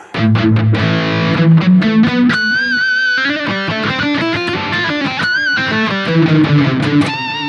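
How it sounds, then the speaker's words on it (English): Electric guitar played through an SD1 overdrive model on a Headrush Prime modeling unit gives loud, gritty driven chords and single-note lines that ring continuously up close. "my favorite ones are here, the SD1, which I'm using currently"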